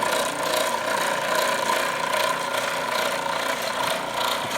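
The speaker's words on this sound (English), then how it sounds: "Motor's got a bit of vibration to it." Homemade food shredder with a freshly mounted electric motor running steadily, a continuous mid-pitched hum with slight vibration and a faint rattle, close by and alone for several seconds.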